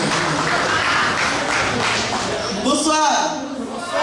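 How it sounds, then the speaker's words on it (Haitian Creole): A gala audience applauds for Amber, a steady broadband wash of clapping that runs through the moment with voices mixed in and a brief cheer near the end. "On donne des applaudissements pour Amber,"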